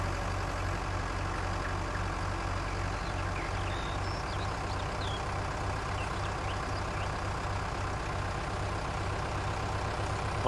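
A truck engine in the farming video game Farming Simulator 19 runs steadily with a low, constant drone, loud and unbroken throughout, with no talking.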